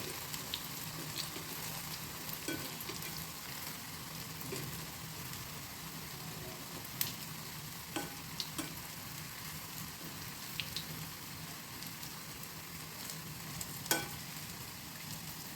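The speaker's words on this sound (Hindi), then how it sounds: "बड़े आप जब छोड़ रहे होते हैं कढ़ाई में तो दूर दूर छोड़िए।" Mung dal fritters frying in hot oil in a kadai, a steady sizzling crackle running throughout with a few sharper pops, close and moderately loud, no talking.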